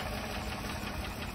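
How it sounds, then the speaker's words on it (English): A rough, rumbling Nissan Altima engine runs continuously with an uneven knocking texture, steady and fairly close. "Engine is knocking"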